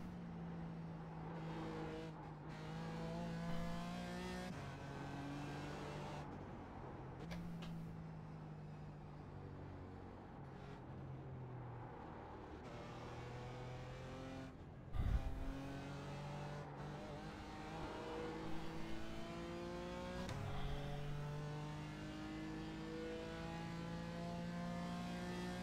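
A race car lapping Barber racetrack at full throttle roars close and steady, climbing through revs with repeated gear shifts and brief lifts, along with an occasional thump and short tire noise.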